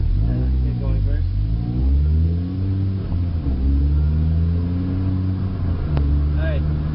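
A manual car's engine revs and pulls away, its drone rising and shifting in pitch as it gathers speed, loud and close, with a person talking over it.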